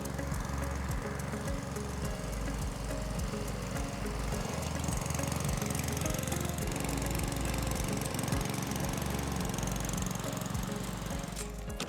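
A petrol rotary lawn mower engine runs steadily and loudly close by, its rapid low chugging continuous throughout with no pauses.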